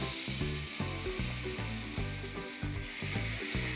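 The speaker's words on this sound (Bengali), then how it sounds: "এবারে আগে থেকে ম্যারিনেট করা চিকেনগুলোকে ভেজে নেব।" Marinated chicken pieces deep frying in hot white oil in a kadai over a medium flame, a steady close sizzle with rhythmic bubbling pulses throughout, no voices.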